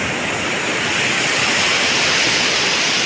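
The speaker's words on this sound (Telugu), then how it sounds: "సముద్రం" Sea waves roll in as a steady, loud, broadband wash of surf that fills the whole stretch without pause, with no voices over it.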